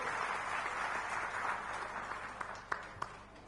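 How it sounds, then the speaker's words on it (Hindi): Audience applause at a public political discussion event in Bemetara, a dense crowd of clapping that gradually thins out, ending in a few scattered louder claps. "मैं चाहूंगा जोरदार तालियां"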